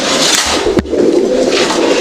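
Female pigeons kept for sale coo close by in a low, rolling murmur, broken once by a sharp thump.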